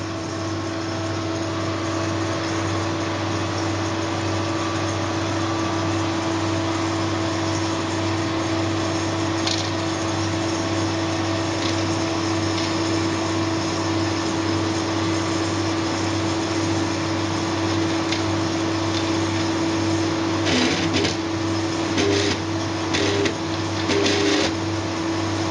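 GC-MS autosampler running an injection and cleaning its needle, a steady mechanical hum with a constant tone and a few faint clicks and short whirring movements toward the end.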